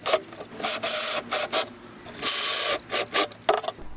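A power drill on a light torque setting drives screws into wood while building a kids' book bin: a string of short whirring bursts, some brief and some longer, separated by pauses, close by.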